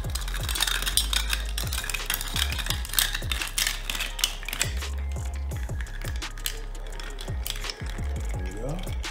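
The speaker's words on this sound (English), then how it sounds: "The bar spoon, I'll give it a little stir." A bar spoon stirs a vodka and orange juice screwdriver cocktail over ice in a glass, making rapid, continuous clinking and rattling for several seconds.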